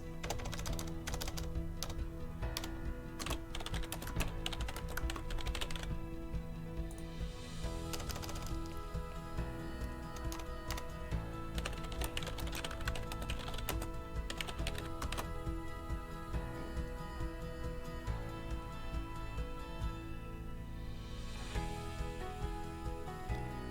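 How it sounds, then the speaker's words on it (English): Fingers type steadily on a computer keyboard while filling in website form fields, a quiet, continuous patter of key clicks with brief pauses and no talking. "I'll type so you can see that."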